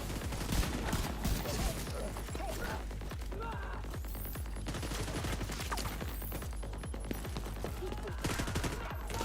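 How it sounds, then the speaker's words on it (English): Rapid sustained gunfire from the video game The Division Resurgence, dense automatic bursts and repeated shots continuing loudly for the whole stretch over a low rumbling battle background. "She was shooting through that sign."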